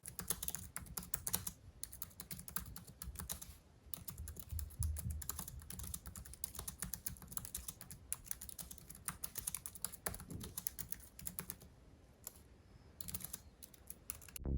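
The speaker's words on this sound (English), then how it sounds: "this keyboard is really comfortable to type on and will ensure a pretty accurate typing experience" Rapid, crisp keystrokes on a 2017 MacBook Air keyboard tap away continuously in close, quiet detail, with brief pauses between bursts and no voices.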